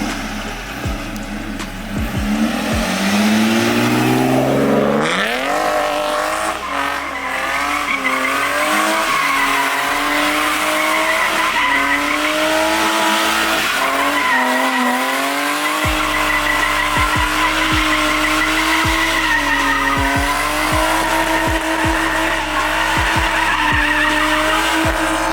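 A BMW E36 on BC Racing coilovers drifts on the street, its engine screaming near the limiter while the tires squeal and skid loudly throughout, with the revs climbing, dropping and bouncing off the cutoff.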